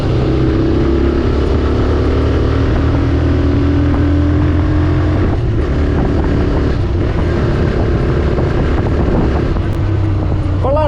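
TVS Raider 125 motorcycle accelerating under throttle on a road ride, a steady, loud engine drone with rising pitch and constant wind rush close to the rider, no speech.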